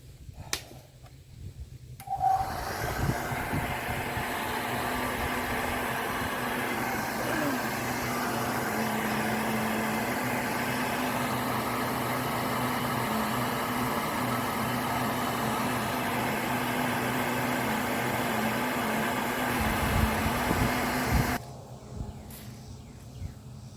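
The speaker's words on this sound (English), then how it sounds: "my weapon of choice here is going to be a heat gun" A heat gun blows a steady, close whooshing roar with a faint constant whine for about twenty seconds while it warms adhesive on a 1999 Chevy Suburban, then cuts off abruptly, leaving a quiet room.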